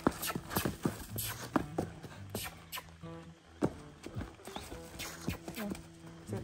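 A bay mare's hooves clip-clop in uneven, close thuds as she moves and jumps about, some steps heavy and others light, over a faint background.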